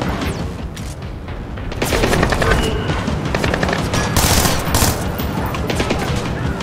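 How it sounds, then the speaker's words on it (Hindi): Rapid automatic gunfire and scattered shots in the video game Splinter Cell: Blacklist, during the Detention Facility mission: dense, loud bursts that crackle continuously over a booming game soundscape. "और ये तो गोलियां चला रहे हैं।"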